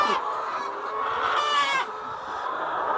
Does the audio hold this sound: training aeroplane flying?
no